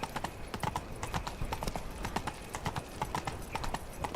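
Horse hooves clip-clop steadily in The Witcher 3, a quick regular beat of hoofbeats on a road with faint ambient game sound beneath.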